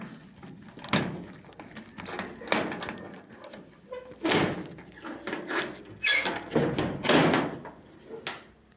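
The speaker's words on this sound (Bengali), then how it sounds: "এই যে আমার রুমটা খুলছি" A room door being opened indoors, with several knocking, clattering handling noises and a jangle like keys or a latch, spread in bursts over several seconds at moderate loudness.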